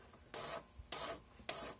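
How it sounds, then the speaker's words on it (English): A worn emery board makes three long, pushing rasping strokes at an even pace, each a bright scratchy swish, close and with no talk. "Then I would take an emery board."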